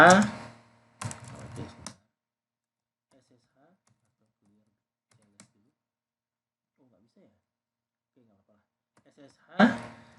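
An SSH command typed on a computer keyboard: a quick burst of key clatter at the start, near silence for several seconds, then another short flurry of keystrokes at the end.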